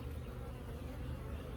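Honeybees covering a frame from a Layens hive make a dense, steady buzzing hum up close, continuous and alone.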